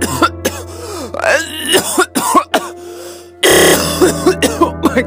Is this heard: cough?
yes